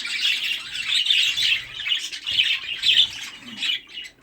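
Rainbow violet male budgerigar with a crossed beak chirping and warbling continuously, a bright, busy stream of close, fairly loud tweets and squawks with brief pauses, no talking.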